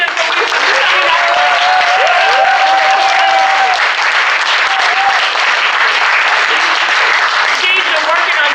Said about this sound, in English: Can we give with you. Jennifer another round of applause?